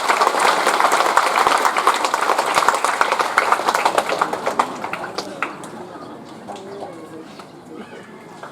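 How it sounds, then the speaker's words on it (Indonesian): Audience at a church mission gathering clapping, loud dense applause that gradually thins and fades out, followed by quieter murmuring voices and scattered sounds. "Sudah tepuk tangan."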